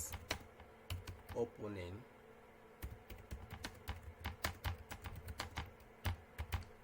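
Rapid keystrokes on a computer keyboard while HTML code is typed, a steady run of close clicks with a brief stretch of speech near the start.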